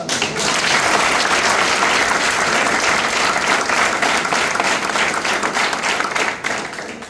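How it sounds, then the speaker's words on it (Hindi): Audience applause in a hall, loud and steady clapping from many hands that holds for several seconds before tapering slightly near the end. "3 बार ताली बजाओ हर बात पर"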